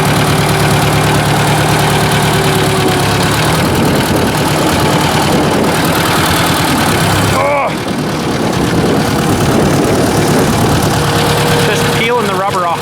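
Ford 800 tractor engine idling steadily up close, a loud continuous low rumble throughout with brief squeaky chirps near the end.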